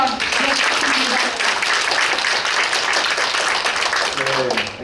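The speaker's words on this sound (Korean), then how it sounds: "큰 박수 한번 부탁드립니다" An audience at a political speaking event claps to welcome the next speaker, a thick continuous round of applause with voices mixed in and some talk near the end.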